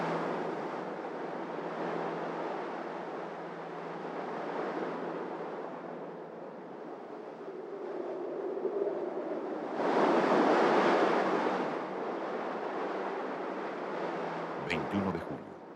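Ocean waves and wind roar at sea in the Drake Passage, a steady broad rush that swells louder partway through, with a brief clatter near the end.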